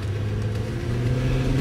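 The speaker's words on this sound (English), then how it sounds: "Rob is taking us out for a drive in the new company car, which he just recently leased" A newly leased company car on the move, heard from inside as a steady low engine drone with a faint rising hum, close and fairly loud, with no one speaking.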